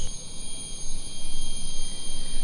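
Dense, steady insect buzzing and whining fills a tropical rainforest in Singapore, a constant high chorus with a low undertone, continuous and fairly loud with no talk.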